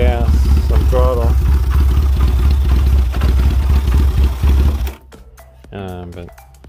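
A Chinese 250cc ATV that sat unused for about ten years idles roughly in first gear on choke, a loud close engine drone with clattering, then cuts out abruptly as someone speaks over it.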